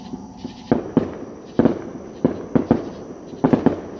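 Nearby fireworks pop and crackle in sharp bursts, several loud bangs in quick clusters with short gaps between, echoing in an outdoor neighborhood at night.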